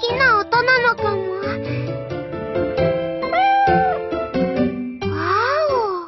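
In a video game, cats meow again and again in bright, close, overlapping cries, some long and wavering, with a musical or chiming tone sounding beneath them.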